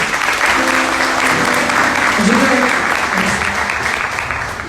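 A church congregation applauds at a Wednesday praise and worship service, a loud, steady wash of clapping across the whole stretch with faint sustained tones beneath, gradually easing toward the end.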